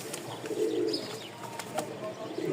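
Pigeons at a sale in Mirpur, Dhaka, give soft, repeated low coos close by, with a few light chirps and faint rustling between the calls.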